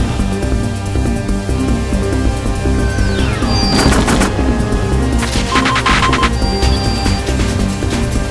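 Rapid bursts of video game gunfire in Parasite Eve over a constant loud backdrop of game music and effects, with short rattling volleys in the middle of the stretch.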